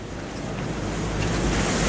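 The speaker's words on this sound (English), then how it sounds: "Sea's calm, but we've still got the odd wave." Sea waves wash steadily against a sailing boat on a fairly calm sea in the Gulf of Lion. The surf makes a loud, continuous rush with heavy wind buffeting across the microphone.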